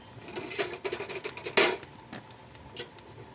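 Bitter gourd and eggplant being stirred in a pan for a vegetarian Bengali dish, with scattered utensil scrapes and clinks against the pan and one sharper clatter near the middle, no voices.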